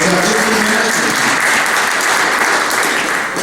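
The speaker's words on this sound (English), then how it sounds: "give a round of applause for Frank Felix" An audience at a 2012 White Shield candidates' forum applauds, loud dense clapping that holds steady throughout and carries faint cheering voices.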